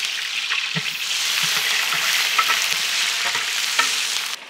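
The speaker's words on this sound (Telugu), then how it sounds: "బగారా రైస్ కోసం స్లైస్డ్ ఆనియన్స్ యాడ్ చేద్దాం." Sliced onions for bagara rice hit hot oil in a pot and fry with a loud, steady sizzle, broken by occasional stirring scrapes and clinks close up.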